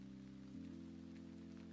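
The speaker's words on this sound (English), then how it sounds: "I gotta turn off Swamp Rain." Steady Swamp Rain weather from the video game Valheim patters evenly and quietly, with a low droning hum underneath that shifts pitch partway through.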